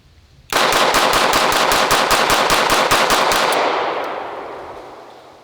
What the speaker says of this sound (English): Let's see how this guy does on a mag dump.